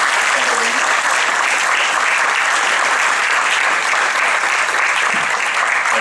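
An indoor audience at an anniversary celebration gives a sustained, dense round of clapping that holds steady and loud throughout.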